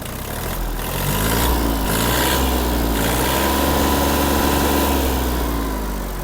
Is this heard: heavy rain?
no